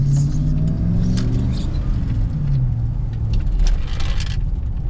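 A Chevrolet Silverado GMT800 pickup with a 5.3 V8 and aftermarket exhaust tips idles close by, a steady deep burbling rumble with faint shifting tones and light clinks on top.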